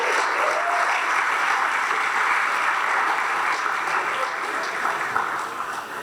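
Dense applause fills an awards gala room, the crowd clapping loudly and evenly, then easing slightly toward the end; no voices over it.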